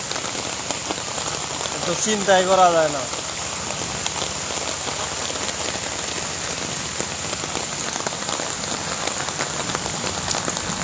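Heavy morning rain pours steadily on a flooded road in Chandra, Kaliakair, Gazipur, a dense constant hiss throughout, with a person speaking briefly near the start.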